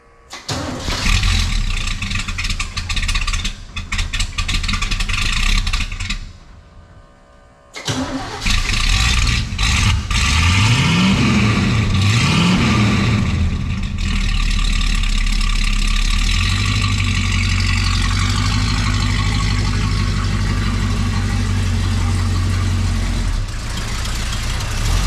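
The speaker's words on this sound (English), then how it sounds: "So let's see if the truck will start this morning and head over." A tow truck wrecker engine cranks, pauses, cranks again and catches, then settles into a loud, steady idle with a low rumble that holds close by to the end, with no talking.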